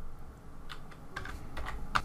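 A few quiet keystrokes tap on a computer keyboard while values are entered into floor-plan software, irregular single clicks spaced out over two seconds, close and alone without talk.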